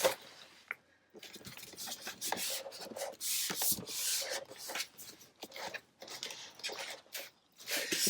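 Stencil vinyl being scraped and smoothed down onto a blue light-grip Cricut cutting mat, giving repeated close, dry rubbing strokes in irregular bursts with short pauses between.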